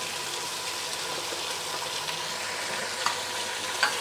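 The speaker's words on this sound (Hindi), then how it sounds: "अदरक लहसुन के साथ इसे हम फ्राई करेंगे कीमे को अच्छी तरह से।" Minced beef keema frying in a pan with ginger garlic paste, a steady close sizzle with faint stirring scrapes throughout and no talk.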